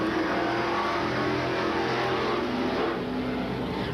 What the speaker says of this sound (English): here comes Joe Layfield in the 121 car.